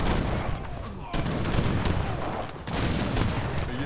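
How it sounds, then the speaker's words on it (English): Sevastopol mortars fire repeatedly at guard towers in Age of Empires 3, heavy booming shots overlapping in a dense, loud barrage of battle noise, with a voice faintly heard beneath. "The Sevastopol mortars are doing a good job of just taking out the guard towers."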